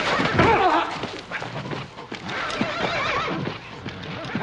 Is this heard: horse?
yes